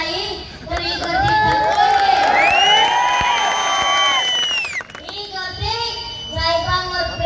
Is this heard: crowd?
yes